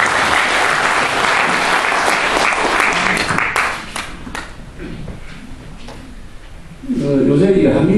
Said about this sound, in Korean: 한 번 더 박수를 보내주시기 바랍니다